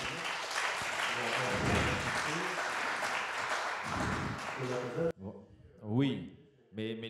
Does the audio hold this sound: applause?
yes